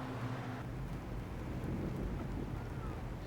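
Steady rain with low thunder rumbling through, a continuous dense wash of bad-weather noise at even loudness, with no talk.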